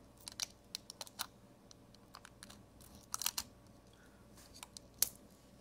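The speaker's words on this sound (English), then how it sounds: "I think I'll cut this with scissors" Scissors snip through Kapton tape in a run of sharp, quiet clicks and cuts, irregular bursts close by against a faint background hiss.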